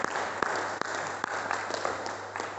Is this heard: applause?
yes